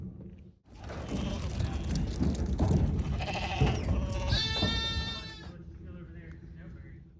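Sixty-odd sheep with lambs bleat repeatedly amid clattering and movement as they are loaded, one loud, wavering bleat standing out near the end while a voice talks over the commotion.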